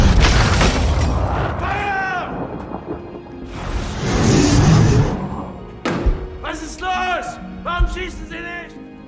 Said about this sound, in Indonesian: secara tiba-tiba, peluru meriam melesat dan hampir mengenai mereka berdua